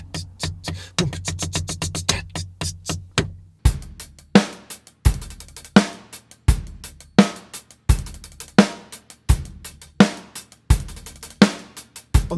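Drum kit groove with fast 32nd-note hi-hat bursts over steady kick and snare backbeats, tight and close, first dense hi-hat runs then evenly spaced heavy hits, played alone without voices.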